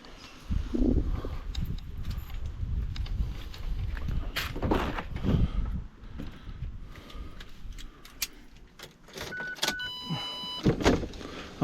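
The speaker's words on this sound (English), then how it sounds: "I'll wind down this window just so we can see that dash" A power window on a 2009–2012 Mazda 6 GH wagon winds down with an uneven mechanical whir and scattered clunks over roughly eleven seconds, with faint electronic chime tones near the end.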